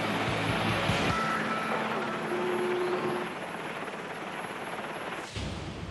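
A Navy helicopter operates aboard an aircraft supercarrier, its engine and rotor producing a loud, continuous drone that eases slightly partway through before a brief thump near the end.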